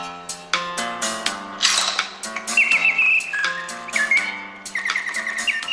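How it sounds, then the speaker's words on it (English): A Swiss-style mechanical singing bird automaton trills and whistles in bright, rapid chirps and warbling slides, loud and close, phrases tumbling one after another without pause. "a French watchmaker perfected the sound mechanism, making the birdsong virtually indiscernible from the real thing."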